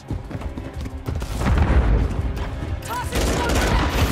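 Gunfire and a booming explosion in the World War II shooter Call of Duty 3, with dense crackling shots and a heavy low rumble building midway, battle chatter and shouted voices mixed underneath.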